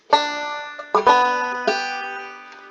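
Banjo played close up with a frailing strum on three notes, three bright ringing strums with sustained tones in an uneven rhythm, then a faint fourth touch, alone.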